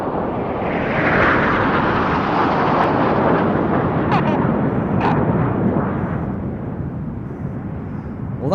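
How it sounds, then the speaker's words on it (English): Nine Red Arrows jets roar overhead in close formation at the RNAS Yeovilton International Air Day, a loud sustained engine rumble that swells and slowly fades as the aircraft pass and recede into the distance. "you've seen all 9 aircraft together performing close formation aerobatics"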